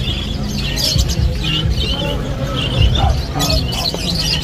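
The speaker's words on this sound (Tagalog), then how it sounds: "May mga lovebirds din, mga ibon." Caged lovebirds and other birds at a market chirp and squawk in rapid, overlapping bursts close by, over a busy background murmur.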